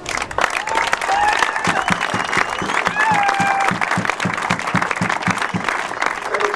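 A crowd gives loud, sustained applause for volunteers at a farewell gathering, with close hand claps, scattered cheers and a few voices over the clapping.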